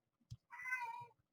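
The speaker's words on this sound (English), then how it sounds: "I have a noisy kitty right now" Pet cat meowing indoors, one clear, drawn-out meow after a faint short chirp, close and quiet in a still room.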